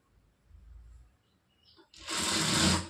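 A sewing machine stitching a blouse neckline starts with a brief whir, falls quiet, then bursts into a short, fast run of stitching near the end, quiet at first and louder once it gets going.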